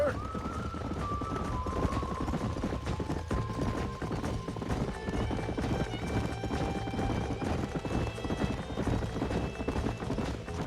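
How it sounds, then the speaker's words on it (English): Horses in the Western game Red Dead Redemption whinny near the start, then hooves clip-clop steadily throughout over a dense ranch backdrop, with no talk. "These are fine horses."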